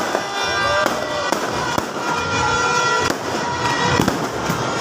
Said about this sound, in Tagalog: Mga fireworks na talagang pagsalubong po natin sa year 2025.